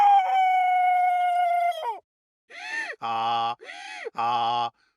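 A voice imitating a rooster, calling "Kukareku!": one long drawn-out call, then after a short pause two shorter crowing calls, loud and close.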